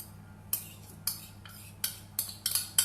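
Sugar and butter are worked together in a bowl, giving a series of quiet, irregular clinks and scrapes of a utensil against the bowl, about eight taps over a few seconds in a hushed room.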